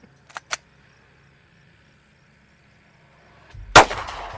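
A 9mm Winchester defense hollow point round fired into ballistic gel: one sharp, loud gunshot burst near the end, after a couple of faint clicks and a long quiet stretch.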